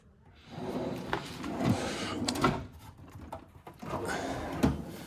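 A tool drawer in a garage being slid open and shut, with close rumbling slides, metal rattles and a few firm thuds as it stops, under a steady background hiss.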